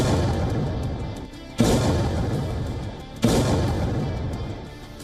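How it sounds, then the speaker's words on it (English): Two heavy, booming blasts from a Russian glide bomb strike in Zaporizhzhia hit about two seconds apart, each a sudden loud crack followed by a long, rolling rumble. "In Zaporizhzhia, a Russian glide bomb tears into the city"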